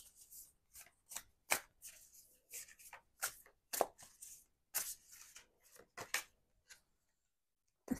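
Tarot cards are shuffled close up in quick irregular bursts of crisp riffling and slapping, with short pauses between and a quiet stop near the end, no talking.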